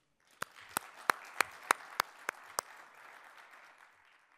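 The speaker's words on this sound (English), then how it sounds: "Please join me in a warm round of applause for our panelists." A small panel-discussion audience applauds, sharp distinct claps standing out over a soft spread of clapping that fades after a few seconds.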